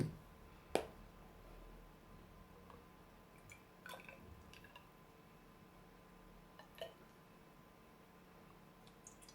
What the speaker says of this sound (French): Ensuite, on va mettre 9 ml d'hydrolat de menthe poivrée.